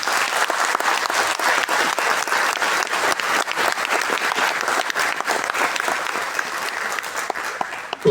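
Sustained, dense clapping from a congress audience at a talk, steady and full throughout, close and loud, with no speech above it.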